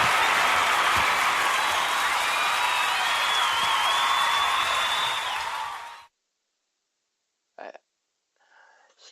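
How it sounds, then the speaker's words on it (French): Loud crowd applause claps and roars continuously for about six seconds, then cuts off abruptly into near silence broken by a couple of faint clicks. "ça mérite des applaudissements, une foule et tout le bordel"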